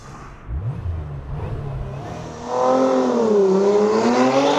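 A Lotus Emira launches from a standstill on a track, the engine note rising sharply into a loud, climbing roar after a quieter idle and brief rev.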